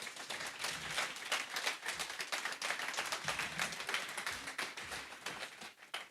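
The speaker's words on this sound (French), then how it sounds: "Merci Carmel, on peut l'applaudir." An audience applauds at a French business breakfast conference, a dense, even patter of many hands clapping that holds steady for several seconds, moderately distant and faint.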